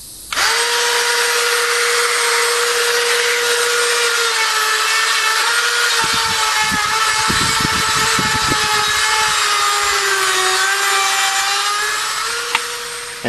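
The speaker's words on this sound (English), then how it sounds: "let's go ahead and put this little sander on there and just see if we can sand away just enough" A high-pitched Dremel rotary tool with a sanding attachment whines steadily while grinding against wood, with scratchy rubbing bursts in the middle, close and loud, no talking.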